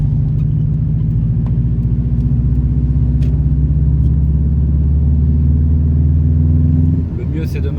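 Subaru Impreza WRX engine droning steadily while driving on small country roads, a loud, low, throbbing note heard from inside the car that drops off abruptly near the end.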